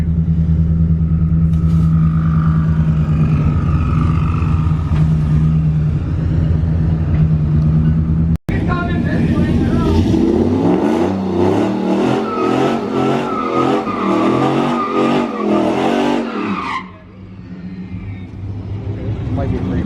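Ram TRX and a bolt-on Ram pickup on a 93 race tune rev hard and launch side by side, a loud, sustained roar of big truck engines rising through gears, with talk over the start before it fades out.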